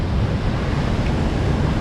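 A flooded waterfall at Ellenborough Falls pours heavily, making a loud, continuous low roar of rushing water mixed with wind buffeting, with no breaks and no talking.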